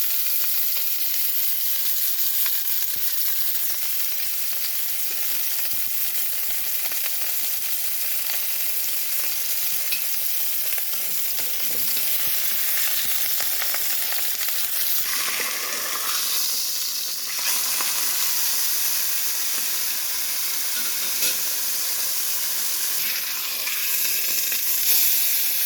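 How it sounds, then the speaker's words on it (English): A beef roast searing in a hot pan gives off a loud, continuous sizzle and frying hiss that holds steady up close for the whole stretch, with no talking. "So I'm going to sear both sides and around the edges."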